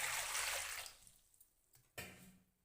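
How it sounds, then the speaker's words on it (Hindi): Water pours into a bowl in a brief, soft splashing burst that fades quickly, followed by a faint knock and a short trickle, quiet and close. "एक अदद बर्तन चाहिए, उसके अंदर हम पानी ऐड करेंगे"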